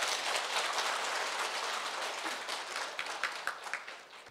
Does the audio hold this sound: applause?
yes